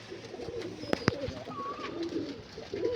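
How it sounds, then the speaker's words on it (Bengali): Pigeons kept in a pigeon house give soft, close, throaty coos, broken by a couple of sharp little taps, in an otherwise quiet space. "এই যে পায়রাগুলো শখ করো। প্রচুর পায়রা আছে।"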